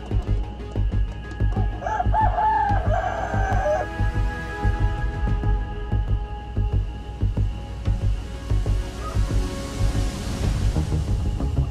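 An Ayam Cemani hen clucks and calls nearby, with a rooster-like crow rising briefly early on amid rustling and outdoor background noise.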